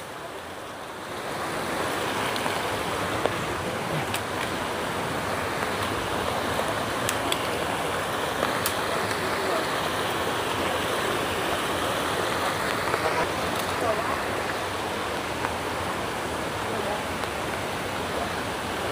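Floodwater flows through a forest in a steady, broad rushing wash, like a stream running close by, continuous and unbroken throughout.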